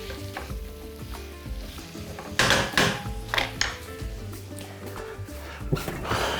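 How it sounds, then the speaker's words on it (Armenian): Tomatoes sizzle in a frying pan while an omelette is being made, a steady crackle with loud stirring and scraping bursts partway through and a dog barking faintly in the background. "Այնքան ենք տապակում, որ լոլիկը փափկի։"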